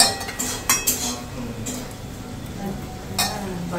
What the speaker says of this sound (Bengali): এগুলো সব এবার কুকারে দিয়ে দেবো